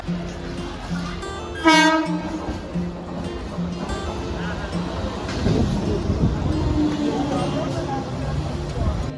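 A local train to Digha, West Bengal, rumbles steadily, with one short horn blast near the start and faint voices mixed into the noise.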